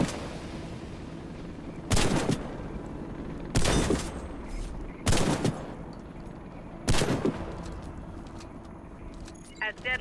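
Shotgun blasts in the video game Warface: four loud, sharp shots spaced about one to two seconds apart over a steady low background rumble.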